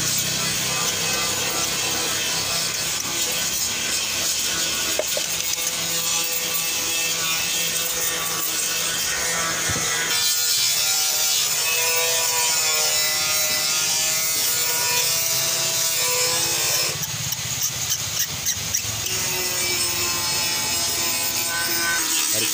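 A 16 mm spanner tightens the spark plugs of a petrol Swift Dzire during a full service, making long continuous scraping and ratcheting sounds of metal on metal, loud and close throughout.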